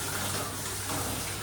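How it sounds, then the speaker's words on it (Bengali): Running water pours steadily from a tap while dishes are washed, a continuous close gushing hiss with no talking. "বাসন তো ধুচ্ছি"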